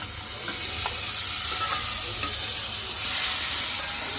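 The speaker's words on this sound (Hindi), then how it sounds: "स्पाइसेस नंतर आपण कांदा टोमॅटो जो कापलेला तो टाकून घेऊया." Chopped onion and tomato for dal khichdi sizzle loudly in a hot pan, a continuous close frying hiss with occasional stirring scrapes, swelling slightly near the end.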